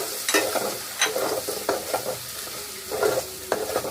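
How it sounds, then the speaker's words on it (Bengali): Shrimp frying in a pan with ginger-garlic paste and salt, a steady close sizzle broken by repeated stirring scrapes at an uneven rhythm, with no talking. "এখন আমি এই মাছের মধ্যে আদা রসুন বাটা লবণ দিয়ে আর একটু ভেজে নিলাম"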